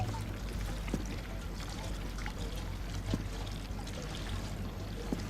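Fuel being poured from a canister into a generator in the video game Dead by Daylight: a steady, continuous liquid pour over a low droning background, with no break.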